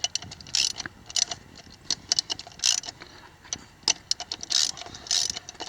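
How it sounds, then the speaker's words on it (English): A ratchet tightening hub bolts on a 1962 Willys CJ-5 during a hub leak repair, irregular bursts of quick clicking pawl strokes with short pauses between, close and clear with no talking. "So I'm snugging these up just kind of evenly, kind of like you would do a tire lug nut pattern"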